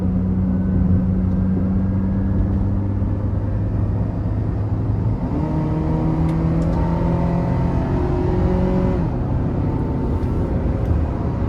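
A 2013 Honda CR-V EX-L AWD with the 2.4 engine accelerates onto an interstate, its engine tone rising steadily and stepping down through gear changes over a constant interior road hum.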